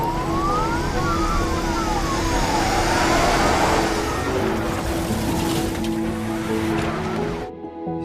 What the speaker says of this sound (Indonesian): Taylor pergi menggunakan mobil dan dikejar oleh polisi